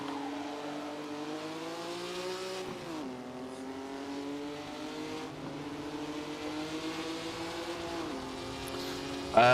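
A racing car engine in the video game Assetto Corsa, recreating the Monaco Historique, drones at a steady high pitch like a small motorbike, dipping and rising briefly as it shifts, continuous and fairly close with no talk.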